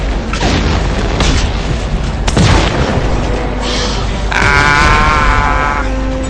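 Explosive weapon fire in the video game Dead Space 3 booms out in loud, dense bursts, one sharp blast near the middle, with rattling game effects and a voice under the din.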